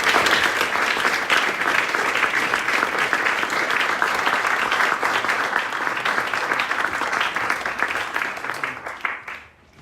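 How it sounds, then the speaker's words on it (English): Sustained, dense audience applause at a talk on Tony Wilson for Paul Morley at Hebden Trades Club, steady and loud throughout, thinning out and fading only in the final moment. "So if we please give a big round of applause to Paul Morley"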